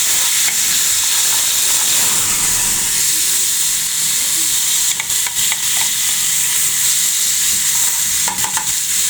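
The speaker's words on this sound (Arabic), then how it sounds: "نبدأ نحط الطماطم بتاعتنا بقى كلها زي ما حضراتكم شايفين اهي" Tomatoes being added to a hot pot and fried for Egyptian lentil soup: a loud, continuous sizzling hiss close by, broken by a few short clicks of a utensil, with no talk.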